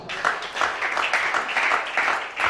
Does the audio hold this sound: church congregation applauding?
yes